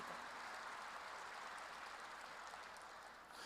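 A church congregation claps together during a sermon, producing a continuous, even patter of applause that stays faint and distant throughout, with no speech over it.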